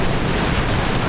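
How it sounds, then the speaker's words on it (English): Heavy rain during a thunderstorm on an anchored sailboat, a dense, loud, continuous hiss and patter of drops with no pauses and no voices. "The rain has slowed down quite a bit, but there's still a lot of lightning going on."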